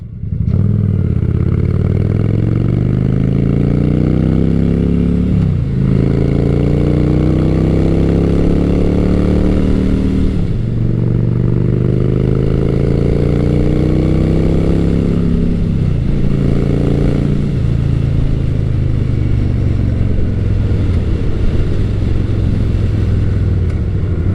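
A Honda Shadow Spirit 750 cruiser motorcycle engine rumbles continuously while riding, its pitch climbing through each gear and dropping at every shift, loud and close throughout.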